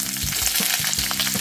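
Curry leaves hitting hot oil with mustard seeds and red chillies, frying for a Kerala vadukapuli lemon curry, give a loud, steady crackling sizzle with sharp pops and spits throughout, close by, with no talking.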